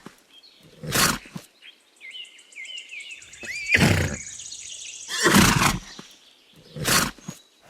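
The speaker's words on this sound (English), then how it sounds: "Horse." A horse whinnies in several loud, shrill bursts separated by pauses, with high wavering tones sounding between them; close and clear with no talk.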